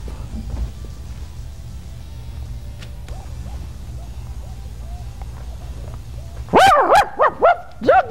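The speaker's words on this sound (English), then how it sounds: "Now, Doug the dog has the next song." A dog barks in a quick burst of several yelping barks near the end, loud and close, after a stretch of low background hum and faint sounds.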